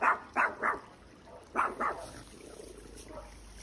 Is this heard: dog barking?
yes